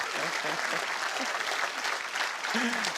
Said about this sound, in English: Come on, give him a big round of applause.